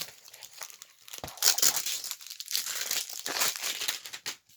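Close, loud crinkling and tearing of plastic film as it is pulled off a canvas during an unboxing, in continuous rustling bursts with short pauses and no talking.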